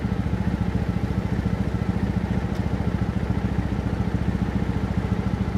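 A combustion-engine motorcycle riding through Shinjuku, Tokyo, its engine a steady, loud, close pulsing throb that runs continuously with no one talking.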